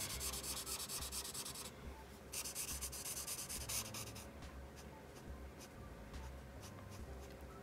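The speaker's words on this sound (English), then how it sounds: "Something satisfying about coloring with marker. The sound it makes" Marker tips scratch and rub across paper during an adult coloring session, a close, steady scritchy texture with short bursts of strokes, fairly quiet and with no talking.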